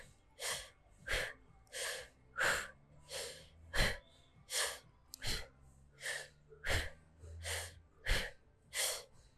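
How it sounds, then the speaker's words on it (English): Deep, rhythmic breaths during a core brace exercise in a yoga sculpt workout, about ten forceful inhale-exhale cycles evenly spaced, close and clear, with no talking. "Let's do 10 more breaths."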